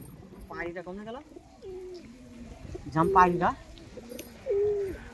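Pigeons at a loft give several deep, rolling coos, close and clear, with a person talking in between the calls.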